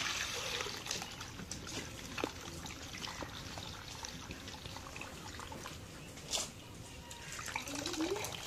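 Water trickles and dribbles steadily while cut fish pieces are rinsed in a home kitchen, with soft splashes and a few brief clinks standing out over the continuous flow.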